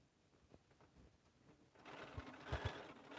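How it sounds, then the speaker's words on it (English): A sewing machine stitches a lined stocking with a pocket, starting with a few slow stitches and then running in a faster, steady whirring rhythm, close and fairly quiet. "So now we're sewing this down."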